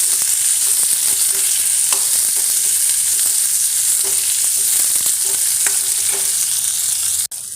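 Onion, ginger and garlic sauté steadily in a hot pan for mutton trotter soup, a continuous loud sizzle with occasional scrapes and soft clicks of stirring, alone without voices.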